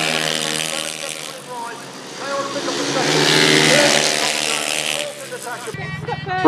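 500cc grasstrack sidecar motorcycles race at a season finale, their engines roaring and revving in a sustained, loud whine that swells and fades as they pass, with a voice talking over it.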